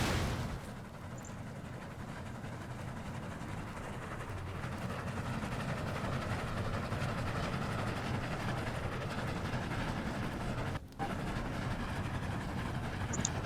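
A toy train runs along its tracks, a faint, continuous low rumble and clatter that holds steady and then cuts out briefly near the end.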